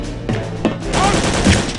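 Gunfire from a Return to Castle Wolfenstein video game battle, sharp repeated shots in quick bursts at close range with a short gap between volleys.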